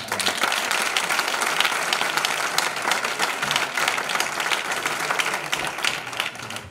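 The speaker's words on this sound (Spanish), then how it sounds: "un aplauso para" Sustained applause from a large conference audience, steady and loud throughout with dense clapping and no talking.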